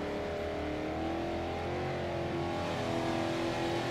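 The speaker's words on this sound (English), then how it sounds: "the Mustang gets a lot louder in the tunnel" A loud Ford Mustang engine in Forza Horizon roars and revs steadily, echoing inside a tunnel, with a rising droning pitch throughout.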